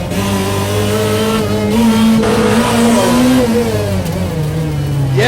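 A supercharged Group B rally car accelerates hard close by, its engine rising and falling through the gears with a strong whining tone, loud and unbroken.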